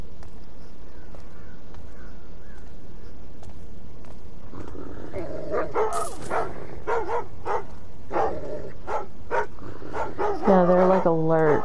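Guard dogs in the stealth video game Thief bark in a series of short, sharp yaps that grow busier toward the end, layered over steady game ambience and a low murmur of voices.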